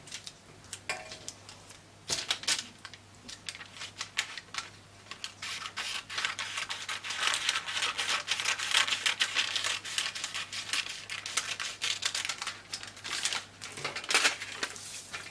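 Steady crisp snipping and rustling of scissors cutting a paper sewing pattern and fabric, close up, with a few louder crinkles and brief pauses.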